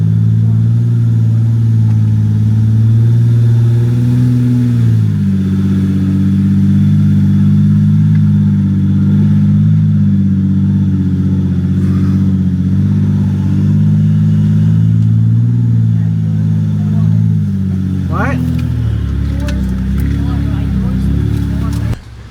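An off-road vehicle's engine drones loudly and steadily while it climbs a rock obstacle on a Daniel Boone Backcountry trail, then revs harder near the end.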